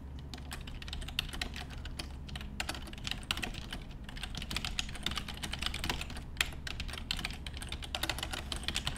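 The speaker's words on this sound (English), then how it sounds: "Sorry, typing to our opponent here." Someone types on a computer keyboard during a Magic: The Gathering match, producing a dense, continuous patter of quick key clicks at close range, with an irregular rhythm and occasional louder strikes and no talking.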